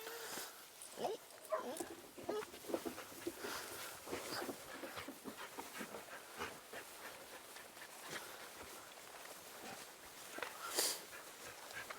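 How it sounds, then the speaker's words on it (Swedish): A Swedish grey elkhound on a wild boar hunt in summer, with scattered short whimpers, pants and yelps amid rustling outdoor activity, fairly faint and close. "och så är det Northug, en gråhund"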